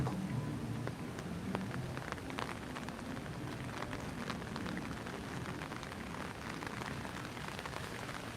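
Steady rain patters on surfaces outdoors at Disney's Animal Kingdom along the Tree of Life trails, a continuous dense hiss of drops with no voices.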